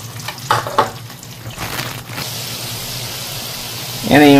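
Chicken frying in hot oil, a loud continuous sizzle with a few clanks of stirring, close by, while a person speaks over it.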